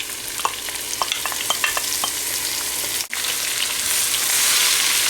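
Onions stirred into ginger and garlic frying in a pan for goat curry, a steady sizzle with scattered scraping clicks of a utensil, a brief drop near the middle, then a brighter, louder hiss toward the end.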